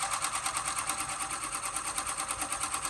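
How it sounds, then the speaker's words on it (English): An embroidery machine stitches an outline at its lowest speed, giving a steady, evenly pulsing mechanical whir with rapid regular needle beats. "Now I do have my machine at its lowest setting in terms of speed."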